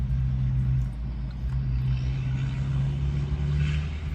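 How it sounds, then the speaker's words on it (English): Heavy trucks rumble steadily close by near a truck yard, a continuous low engine drone with a faint higher whine drifting through, loud and unbroken with no talk. "sorry about all the trucks"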